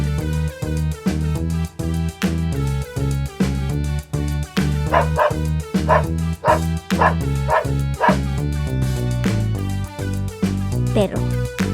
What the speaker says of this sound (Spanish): Hoy vamos a aprender cómo se escribe y hace el perro.